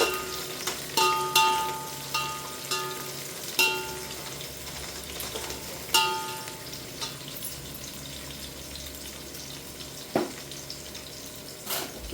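Onion and chillies fry in a pan for a chicken dish, with a constant close sizzle broken by repeated spoon strokes and clinks, busier at the start and sparser later, with no voices.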